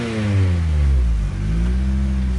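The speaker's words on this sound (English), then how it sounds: "So let's rev the engine once again." A Mitsubishi Eclipse car engine revs up nearby, a loud steady roar whose pitch climbs, briefly dips, then climbs again, heard alone without voices.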